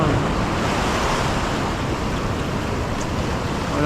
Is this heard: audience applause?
no